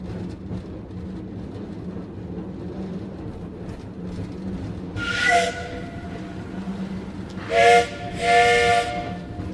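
A steam train whistle sounds in short loud bursts, one then two more close together, over a continuous low rumbling hiss of the train.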